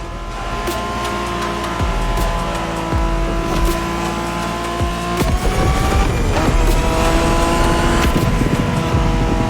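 A Honda NSX engine in The Crew Motorfest roars continuously, revving up and down through several gear changes with sharp transient clicks and bumps along the way, loud and close with no voices.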